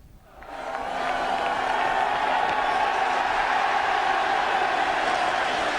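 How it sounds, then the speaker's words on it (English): An all-ticket capacity football crowd at Dean Court for Bournemouth against Manchester United in the 1989 FA Cup fourth round, a steady, loud roar and buzz that swells in quickly and holds evenly. "Another capacity, all-ticket crowd at Dean Court"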